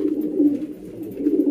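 A king pigeon coos close by among female pigeons in a loft where eggs have been laid. The throaty, rolling coo runs almost continuously, with no talk over it.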